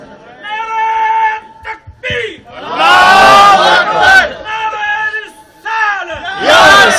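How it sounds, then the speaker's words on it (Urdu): Crowd at an Eid Milad gathering in a mosque roars a loud religious slogan (naara) in call-and-response bursts, a lead voice calling out and many voices answering in several big swells. "ذرا ایک عاشق کوئی زوردار نعرہ لگائے"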